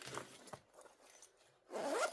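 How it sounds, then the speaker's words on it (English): A zipper is drawn shut on a handmade sewn sling pouch, giving a close, crisp rasping pull, a short pause, then a louder final zip. "and zip it up"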